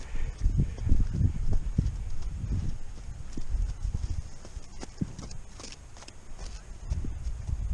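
Horses approach across the ground, their hooves clip-clopping in a loose, uneven rhythm that stays fairly close throughout, with a low rumble of movement beneath.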